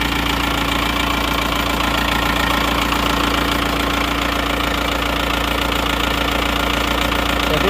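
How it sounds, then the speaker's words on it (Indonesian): A car engine idles steadily after repair of a broken crankshaft, its timing gears turning smoothly with no harsh rattle; a loud, continuous mechanical hum and fine ticking run throughout with no talk. "Suara gigi timingnya juga sudah tidak kedengaran kasar, sudah standar lah."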